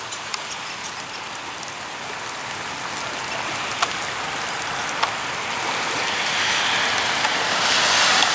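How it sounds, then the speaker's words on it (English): Heavy rain pours down over a lake in a dense steady hiss, growing slightly louder toward the end, with a few sharper drips. "See the rain coming down there?"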